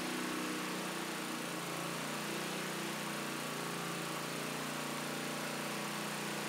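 A small 212 cc Predator gasoline engine drones steadily and loudly under a 90 amp electrical load, a continuous buzzing hum with no pauses.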